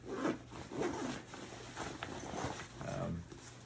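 The zipper on a Mystery Ranch Blitz 30 backpack runs down the side of its clamshell main compartment in quiet, repeated rasping pulls, with no one talking.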